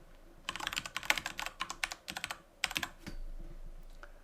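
A file name is tapped out on a computer keyboard in a quick burst of crisp, close keystrokes, pausing briefly before a final few presses, with no talking.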